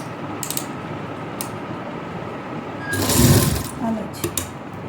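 A sewing machine stitches pleats into a frock, its mechanical whir rising in a louder burst partway through amid quieter clicks and shop background noise.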